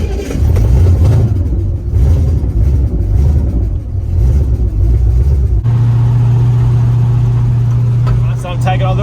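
A Holden Torana on a test drive, its engine droning loud and close from the cabin, shifting into a steadier, higher hum partway through, with a voice speaking over the engine noise at times.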